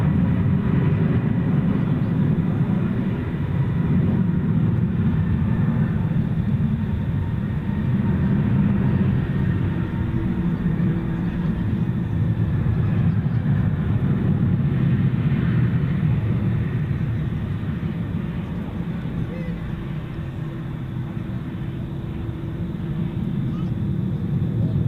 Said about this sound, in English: you're about to see a plane go by you